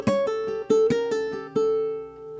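Fingerpicked ukulele alternating between the first and fourth strings in a slow eastern-style melody, each plucked note ringing clearly and decaying, played up close and alone.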